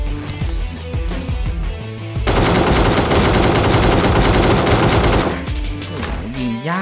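An ACE32 rifle with the Beam Blast skin in PUBG Mobile fires loud, close bursts, first spaced single shots, then a dense sustained volley of several seconds, then scattered shots and a rising electronic whine.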